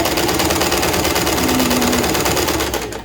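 A sewing machine runs fast and steady while stitching over a shirt collar, a loud, close, rapid mechanical chatter that continues without pause before slowing and stopping at the end.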